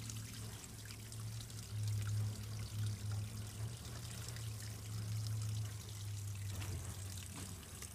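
Water pours and trickles steadily in a garden pond, a continuous close stream over a low hum, with no voices.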